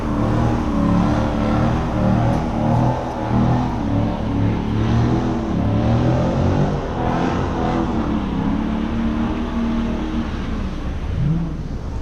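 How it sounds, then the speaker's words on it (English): Ram 1500 Scat Pack pickup engine revving hard and steadily throughout a burnout, loud and close with a rough, sustained roar that rises and falls slightly, no talking. "Burnout session number 8"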